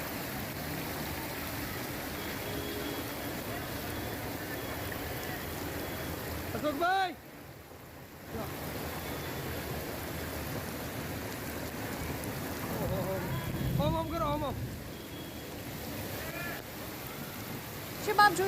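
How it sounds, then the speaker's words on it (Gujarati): Steady rain showers in Dehgam after a long dry spell, a constant hiss of water on surfaces with running runoff throughout and occasional brief interruptions. "લાંબા વિરામ બાદ વરસાદ વરસ્યો છે।"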